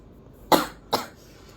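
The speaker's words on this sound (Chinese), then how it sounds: "我很讨厌咳嗽，很讨厌，真的很讨厌咳嗽。" A woman with a cold coughs twice, two short, close, moderately loud bursts about half a second apart in an otherwise quiet room.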